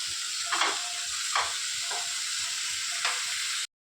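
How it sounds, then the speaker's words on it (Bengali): Spices with turmeric and salt sautéing in a pan give a steady soft sizzle and hiss, broken by a few louder stirring scrapes at intervals, with no talking. "তো এটা ভালো করে কষুক, তারপর আলুগুলো দিয়ে দেবো"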